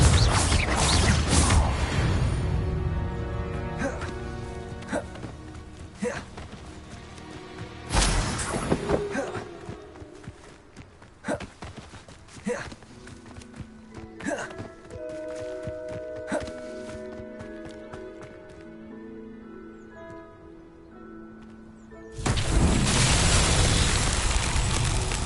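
In Hogwarts Legacy, Confringo fire spells go off as repeated thumping blasts. Heavy booms open and close the stretch, with lighter impacts and musical tones sounding between them.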